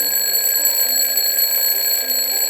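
Alarm clock ringing continuously with a steady, bright electronic tone that holds evenly, close and fairly loud, with no voices over it.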